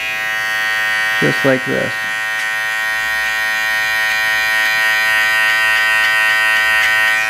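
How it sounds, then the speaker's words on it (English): An electric tapering trimmer cuts hair with a steady, close, high-pitched buzz that runs throughout, and a person briefly speaks over it near the start. "I use this tapering trimmer. It's great for lineups, but it's for me it's great for tapering."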